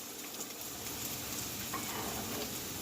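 Onions sauteing in canola oil in a pan over medium heat, an even, close crackling sizzle with faint stirring movement, steady from start to end and free of voices.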